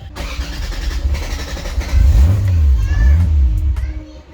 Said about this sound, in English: it looks like for the engine start, the cranking fuel is a little too rich